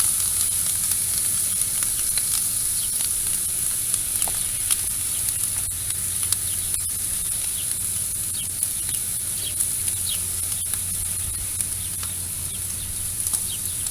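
Pork ribs sizzle on a barbecue grill, a steady crackling hiss with small scattered pops and clicks throughout, close and continuous, with no talking.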